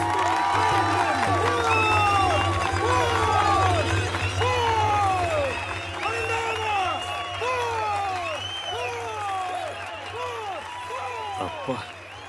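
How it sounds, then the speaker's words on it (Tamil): Theatre audience applauding a stage performance, dense continuous clapping and cheering at close range that gradually eases, with a low steady hum beneath and a few whistle-like bird or whoop sounds over it. "என்ன கைத்தட்டல், மேடே இடிஞ்சு விழுந்துடும் போல இருக்கு"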